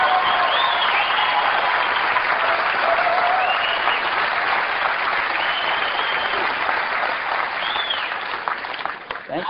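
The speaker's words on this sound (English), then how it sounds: "It's a lot of applause when you guys do all the work." Loud, dense applause from a large audience at a 1999 Apple keynote event, sustained for several seconds before tapering off near the end.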